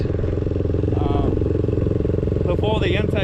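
A 1999 Honda XR250 dirt bike with a freshly rebuilt carburettor and corrected valve clearances runs at a steady, even idle nearby, with a constant loud thump throughout while a person talks briefly over it.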